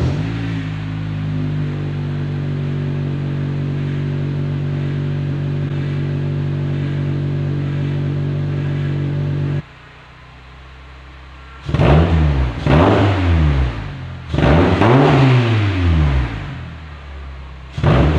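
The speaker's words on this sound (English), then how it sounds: "Let us see if we can get a good sounding exhaust clip of this car." A Honda Accord idles with a steady low exhaust drone, then goes quiet before several sharp revs climb and fall in quick succession, loud and close-up with no talking.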